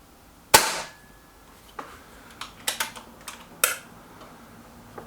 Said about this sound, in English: the first shot was actually a Hades and these next 5 shots are the slugs